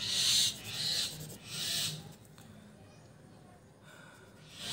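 Faint evening bird calls chirp in a few short bursts early on, then fade to a quiet, distant background.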